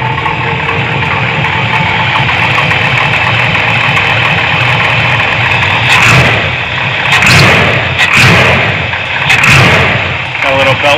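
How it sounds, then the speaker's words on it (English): A 454 big block Chevy engine with an Edelbrock 1411 carburetor in a square body Chevy dually idles loud and close, a steady rumbling lope with a few swells of throttle toward the end. "Gave it no gas, it started up. It's now idling."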